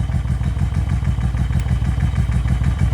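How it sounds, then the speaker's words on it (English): A 1998 Yamaha V Star 650 bagger motorcycle engine runs steadily at a low, throbbing idle with a slight lumpy pulse, close and continuous with mechanical clatter and no talk. "you can see how much better it revs up with the airbox and everything in place"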